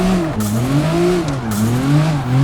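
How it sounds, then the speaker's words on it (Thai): A Nissan Skyline R33 in the CarX Drift Racing video game drifts with its turbo engine droning loudly, the pitch rising and falling with the revs and two brief hissy bursts, with no talk. "แล้วเสียงเทอร์โมดังตลอดเลยครับ"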